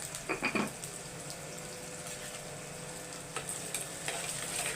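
Onions sautéing in a pan, a faint steady sizzle with a few clinks and scrapes of a ladle early on, quiet and close, without speech.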